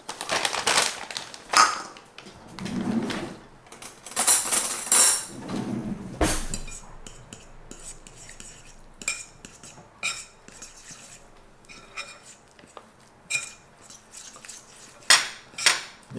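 Keto cookie dough being mixed in a bowl, heard as uneven bursts of utensil scraping and clinking against the bowl, alternating with quieter stretches and a few sharp knocks.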